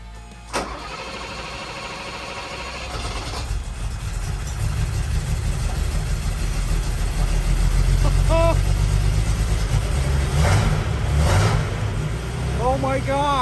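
A rebuilt BMW E23 engine cranks and fires, then settles into a steady, loud idle with a slight rev, close to the car, while a person speaks briefly over it.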